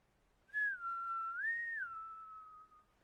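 A human voice imitates eerie wind whistling through mountains, a single clear, wavering whistle that rises, dips and then holds a long falling note, close and alone.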